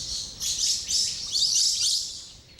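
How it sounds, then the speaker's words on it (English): Wild birds singing in a remote, untouched forest, bright high chirps and warbling phrases in overlapping bursts, fairly close and clear with no other sounds. "there are no Coke cans, no sounds except the sounds of the birds."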